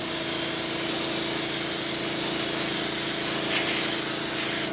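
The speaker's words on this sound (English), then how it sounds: "we'll go ahead and start spraying this onto the bottom of the hull here" Airbrush spraying gray paint onto the bottom of a Revell Type VIIC U-boat scale model hull, a steady continuous hiss held at a constant level the whole time with no talking.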